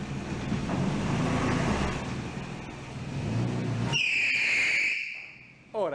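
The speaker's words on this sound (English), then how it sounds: "You'll probably do a burnout though" A cheap Toyota Tacoma pickup truck revs hard with a dense roaring engine for several seconds, then a high tire squeal or whistle cuts in sharply, loud and close, with brief talk around it.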